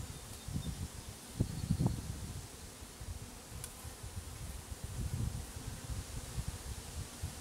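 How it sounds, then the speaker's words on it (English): Honeybees buzzing on crowded hive frames as a beekeeper prepares to sweep them off with a feather, a steady low hum with soft rustling and a few closer passes. "I've got my feather to sweep off the bees."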